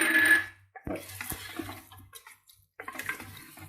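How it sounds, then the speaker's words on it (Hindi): Half a bowl of water is poured into a pan of desi chicken korma cooking with garam masala, giving a brief splashing gush followed by scattered clinks and bubbling. "अभी ये आधी कटोरी इसमें पानी डाल देंगे।"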